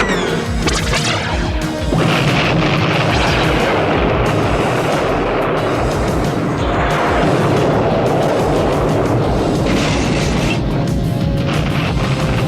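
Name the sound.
laser blasts from cartoon vehicles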